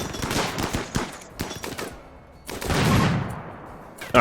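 Gunfire crackles in the RimWorld colony game during a raid. Bursts of rapid shots come in clusters, pause, then return with a swelling rumble and a final sharp burst.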